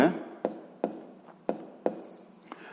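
Chalk or marker writing on a board during a sixth-grade math lesson: a series of sharp, scratchy strokes and taps at an irregular rhythm, close and fairly soft, with no talking.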